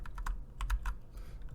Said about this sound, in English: You're going to want to type in SSH